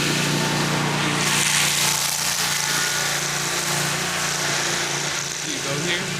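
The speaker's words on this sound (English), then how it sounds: "A nice little lawnmower coming." A small lawnmower drives past outside, its steady engine drone continuous and fairly loud throughout, with faint talk underneath.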